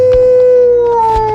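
A sustained, loud howl rising slightly in pitch, as of a woman turning into a werewolf, bestial and pained, held steady for over a second with a low rumble beneath.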